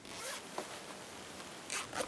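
Several quick zipper pulls, close and soft, with short rasping strokes near the start and a couple more at the end, as the slider is pulled off a zipper on a small fabric pouch.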